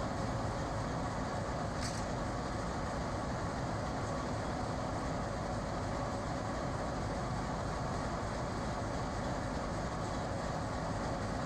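A superfast express train speeds past on the New Delhi–Mathura line, a steady, loud, dense rumble of wheels and carriages sustained throughout with no voices.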